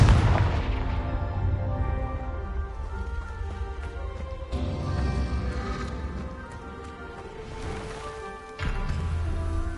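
Repeated Confringo blasting spell explosions in Hogwarts Legacy: a heavy booming impact at the start, then further loud blasts and rumbling bursts over a dense game soundscape, with another sharp boom near the end.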